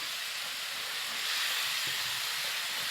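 Steady loud sizzle and hiss as water goes into a hot pan of fish curry with tomato, a continuous broadband steam rush with no pauses.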